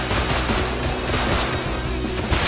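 Dense, continuous gunfire from the survival game Rust, rapid overlapping shots filling the whole stretch at a steady loud level, with no pause between bursts.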